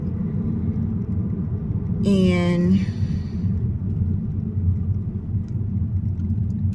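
Road traffic, a continuous low rumble of passing vehicles, with a brief spoken word over it.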